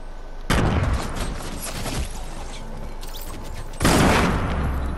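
Grenade explosions in the video game Fortnite come as two loud, booming blasts: one near the start and another close to the end. Rumbling debris and crackling fill the gap between them.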